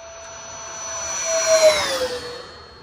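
A Freewing Stinger 90, a 90mm electric ducted-fan RC jet, makes a whining, whooshing pass. The sound swells from moderate to loud with a falling pitch, then recedes.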